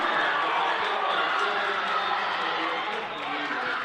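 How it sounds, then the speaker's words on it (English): A limited-capacity crowd at a high school basketball game between Hillcrest and Wheaton Herman Norcross rises into steady cheering, a broad wash of voices that holds throughout at fairly loud level. "the limited capacity crowd is coming to life here for the Comets"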